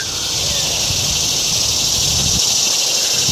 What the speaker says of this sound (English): I believe those are cicadas that you can hear up in that tree.